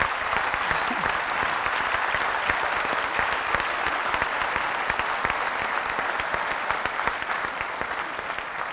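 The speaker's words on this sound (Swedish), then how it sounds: "Ställ dig upp så vi får ge dig en applåd för din fina film" A film festival audience applauds a filmmaker in the cinema at an opening night in Gothenburg, with dense, steady clapping that fills the room from start to finish and eases slightly near the end.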